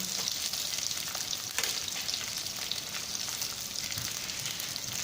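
Turmeric sizzling in hot oil for a raw mango and soybean dal, a steady dense crackling hiss that runs unbroken from start to finish, close and moderately loud with no voices.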